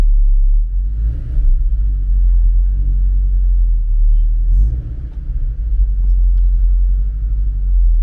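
Scion FR-S running on a test drive in sport mode, a steady low engine rumble with brief swells as it accelerates, close and continuous with no voices over it.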